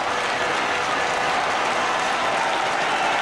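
A football crowd at Norwich City versus Inter Milan applauds steadily after a shot comes back off the crossbar, with dense, continuous clapping and crowd noise at an even level throughout.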